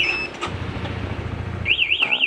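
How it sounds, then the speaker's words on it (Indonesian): Smart key alarm on a Honda CBR motorcycle, first a steady electronic tone, then a loud warbling siren that rises and falls in repeated sweeps near the microphone. "Pencet tombol merah ini, mesin mati dan alarm bunyi."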